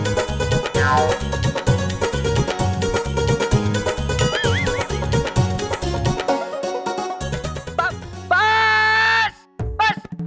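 A goat bleats a few times over lively background music, ending with one long, drawn-out bleat.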